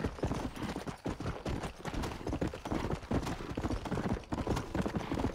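Horse hooves clip-clop in Red Dead Redemption as a rider travels at a steady gait, the hoof strikes landing in a brisk, regular rhythm from start to finish at moderate level.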